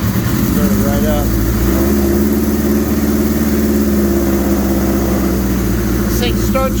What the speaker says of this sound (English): This thing starts right up every time, man. Good old GS 1100E motor, 1983.